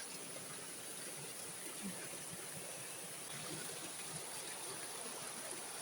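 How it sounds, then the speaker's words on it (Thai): Water pours steadily over large rocks into a deep drop below a forest waterfall, heard from the top as a faint, even rush of broadband noise that never lets up, with no voices. "จะเป็นน้ำตกนะคะ ทุกคน ลึกลงไปเลยค่ะ เป็นน้ำตกนะคะ"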